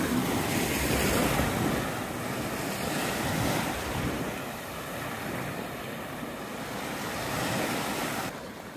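Sea waves wash continuously onto the shore beside a campsite near Capaccio Paestum, a broad, steady surf roar with wind buffeting the microphone throughout.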